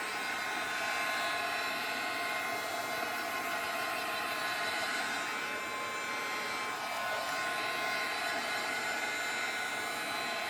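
A heat tool blows steadily to dry Saffron ink on a laser-cut card, a continuous close, even whooshing hum that holds for the whole stretch with no talking.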